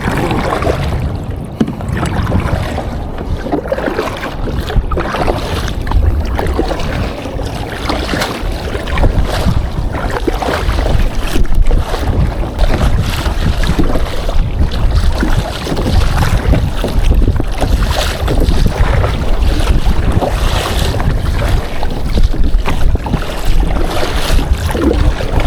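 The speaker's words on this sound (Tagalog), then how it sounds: "Nagkakusog mo ng hangin guys" Strong wind gusting across open sea around a kayak on an extreme kayak fishing trip, a dense, continuous roar with buffeting low rumble and splashing texture, loud and steady throughout with no talking.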